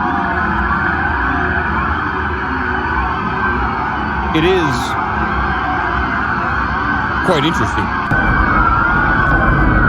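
Police car sirens from a large emergency response at a Miami mall wail steadily through a noisy crowd scene, with two short rising whoops standing out; a person speaks briefly over the din.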